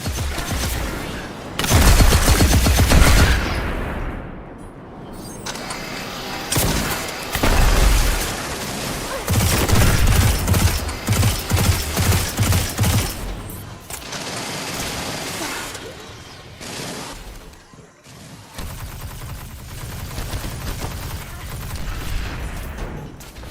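In the video game Destiny 2, turrets fire repeatedly through a long, busy combat stretch, with loud volleys, booming blasts and dense bursts that swell and ease over layered game effects.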